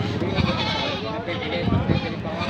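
Goats bleating nearby at a livestock market during stormy weather, several overlapping loud bleats in quick bursts.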